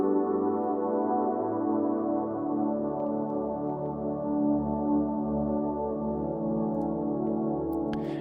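A sustained synth pad built from a Flex preset holds a dense, steady harmonic drone throughout, with slow swelling movement, playing alone at moderate loudness with no voices.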